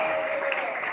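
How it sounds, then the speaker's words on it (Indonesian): A church congregation applauds steadily, a dense wash of clapping that stays even throughout the brief moment. "kasih tepuk tangan sambil tutup mata dengan bersorak kepada Tuhan."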